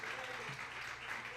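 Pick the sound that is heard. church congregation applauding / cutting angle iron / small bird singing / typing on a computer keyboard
church congregation applauding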